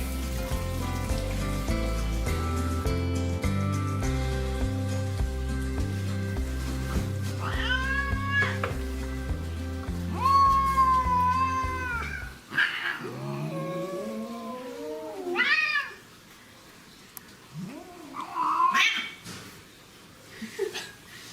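Many cats in a large feeding colony squabble and caterwaul in the morning, with drawn-out yowls and meows rising and falling over music, then heard more clearly alone amid a faint trickle of water.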